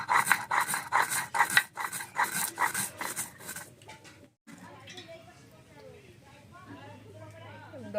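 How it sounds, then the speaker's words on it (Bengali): Cucumber ground into spice paste by hand, with quick rhythmic scraping strokes for the first few seconds, then a voice speaking over quieter kitchen noise. "শসাটা বেটে নিচ্ছি।"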